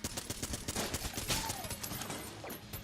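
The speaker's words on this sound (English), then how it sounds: "This gun doesn't shoot single bullets at a time. It shoots in bursts." An M16-style burst-fire gun in Enter the Gungeon fires in rapid short bursts, a dense cluster of sharp cracking shots spread over a few seconds, close and punchy with no talk.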